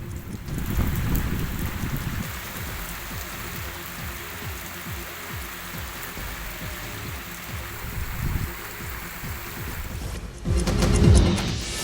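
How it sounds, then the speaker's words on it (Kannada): Heavy rain pours in Koppal district, a dense continuous hiss of falling water with low rumbling splashes underneath, swelling louder near the end, no talk. "ಕಳೆದ 3 ದಿನಗಳಿಂದ ಕೊಪ್ಪಳ ಜಿಲ್ಲೆಯಲ್ಲಿ ಭಾರೀ ಮಳೆ ಆಗ್ತಾ ಇದೆ."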